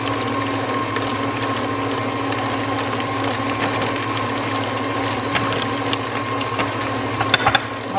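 Electric hand mixer whirring steadily as flour is beaten into zucchini bread batter, a continuous mechanical drone at a slightly lowered speed with faint rattling clicks near the end.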